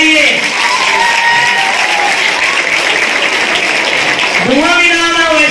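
Loud, continuous applause with some cheering from a crowd at a junior college naat recitation competition, a dense roar of clapping with voices rising through it, especially near the end.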